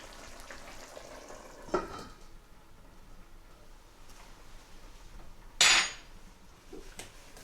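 Minced beef karahi cooks on low heat with black cardamom and cloves. A soft, steady sizzle is broken by a few sharp clinks and scrapes of a utensil, with one loud clatter near the end.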